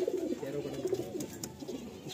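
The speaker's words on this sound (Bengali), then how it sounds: "খুব ভালো কোয়ালিটির পায়রা" Madrasi pigeon cooing close by, a low, soft, rolling coo repeating steadily through the moment with faint background noise.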